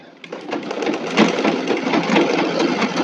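Freshly oiled domestic sewing machine running steadily under pedal control, a continuous close mechanical whir with a fast even stitching rhythm, fairly loud and without speech.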